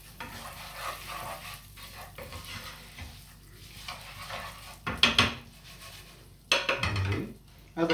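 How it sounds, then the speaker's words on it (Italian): Gorgonzola and walnut risotto stirred in a pan, with a soft scraping and sizzling that swells into two louder bursts of clattering spoon-on-pan stirring near the end. "Mescoliamo bene."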